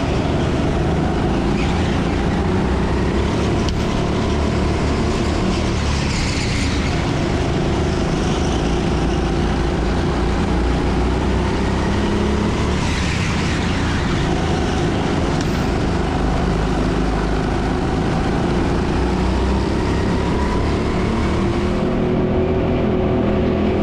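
Go-kart engines on an indoor track, a steady close engine drone rising and falling as karts run the straights and corners, continuous throughout with no voices.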